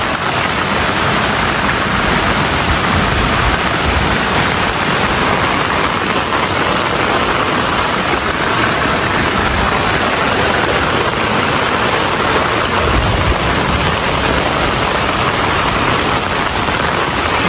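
A heavy downpour of rain at the headwaters of the Sardu stream roars loud and steady, a dense, unbroken hiss that stays constant from start to finish with no voices.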